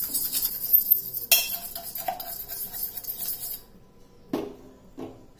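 Egg, curd and corn flour being beaten together in a bowl with a utensil, giving steady scraping clinks against the bowl for several seconds, then a pause and two short taps.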